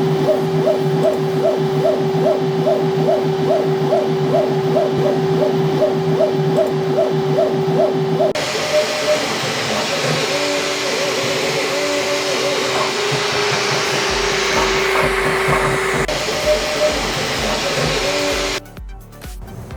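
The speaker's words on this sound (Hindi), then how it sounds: "अब बस प्रिंट स्टार्ट करें और देखें कैसा रिज़ल्ट आता है" A 3D printer prints a white and red keychain, humming steadily with a regular pulsing motor whine. Partway through, the whirring shifts into a rougher, busier mechanical drone.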